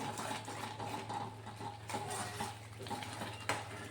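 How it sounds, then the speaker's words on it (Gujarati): Grated coconut being stirred into a mixture in a pan for gundar pak, with steady scraping clinks of a spoon against metal, close and continuous, no talk. "1 વાટકી કોપરાનું છીણ લીધું છે, તો એને પણ આપણે હલાવી દઈશું"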